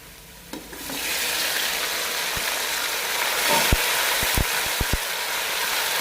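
Tomatoes added to browned onions for chicken karahi hit the hot pan with a sudden jump into loud continuous sizzling, followed by several sharp knocks of a spoon or spatula stirring against the pan, close and without talk.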